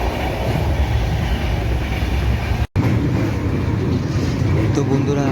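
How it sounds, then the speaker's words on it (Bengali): Azad Hind Express running at speed, a steady loud rumble of wheels and carriage noise that fills the whole stretch, broken by one sudden instant of silence midway before resuming. "ট্রেন আমাদের ভালো স্পিড তুলে দিয়েছে"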